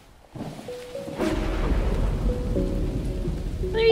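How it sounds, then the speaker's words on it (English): Thunderstorm with rain in the game SCHiM, steady rain hiss building under a low rumbling roll of thunder, with faint tonal game sounds on top. "The storm is crazy."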